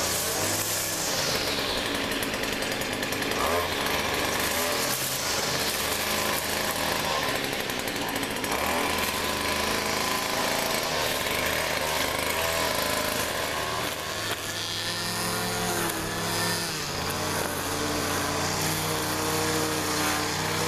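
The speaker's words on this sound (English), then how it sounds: "After using the string trimmer and getting everything weed-eated" A string trimmer cuts weeds, its small engine whining loudly and continuously with shifting pitch as it works, with no talking.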